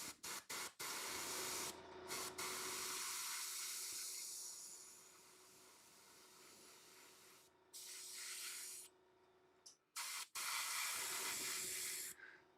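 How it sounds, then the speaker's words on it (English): Airbrush spraying paint onto a Tyranid Ravener miniature, a close airy hiss in on-and-off bursts, some long and steady, others short puffs separated by sudden silences. "So we're going to go at an 85-degree angle with the airbrush."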